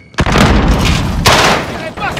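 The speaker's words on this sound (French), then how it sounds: "Grenade lancée!" Grenade explosion in Call of Duty: Modern Warfare, a broad loud boom at the start followed by a second burst mid-clip, with sustained rumbling gunfire-like noise throughout and voices chattering over it.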